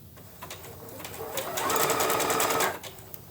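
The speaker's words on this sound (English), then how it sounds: "I'm going to stitch further into the skyline material about the distance of the width of the stitch" A sewing machine stitches an appliqué onto a tote bag: a close, steady rapid whir that builds and runs for about a second before stopping, with faint single stitches around it.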